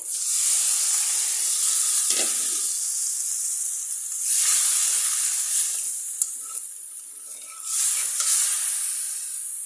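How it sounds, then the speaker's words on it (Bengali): Water poured into a hot pan of beef tripe and spices hisses and sizzles loudly and steadily. Stirring scrapes and bursts of steam recur over nearly ten seconds, with no talk. "পানি দিয়ে দিই।"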